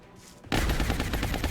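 A rapid burst of automatic gunfire from the video game XCOM: Long War erupts suddenly after a short quiet lead-in and rattles on loudly without a break.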